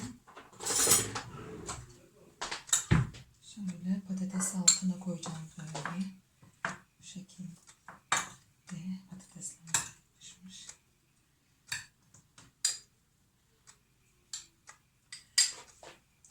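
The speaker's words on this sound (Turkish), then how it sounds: "Hemen şimdi içlerine koyuyorum şu kaşıkları." Spoons are set one by one into clay güveç casserole dishes, a series of sharp clinks and taps with gaps between, interleaved with a woman's speech in a quiet kitchen.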